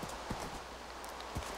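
Horse hooves clip-clopping in Minecraft, a few soft, spaced hoofbeats under a steady background hum, fairly quiet and unhurried.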